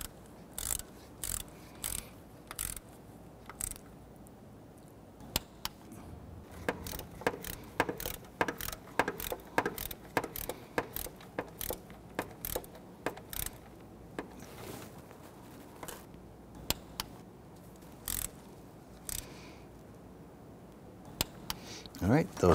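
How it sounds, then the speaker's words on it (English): A torque wrench ratcheting bolts down to 82 inch-pounds: repeated sharp clicking pawl bursts in irregular runs, close and crisp, with someone talking in between. "we can just torque those down normally to 82 inch-pounds as well"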